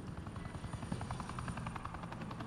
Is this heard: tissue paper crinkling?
no